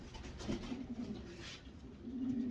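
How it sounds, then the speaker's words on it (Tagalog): A racing pigeon entered in a one-loft race coos softly in low repeated notes, fairly near, with faint background noise and no talking. "Ang pangalawa nating kalahok, mga ninong, ay itong ibon na to."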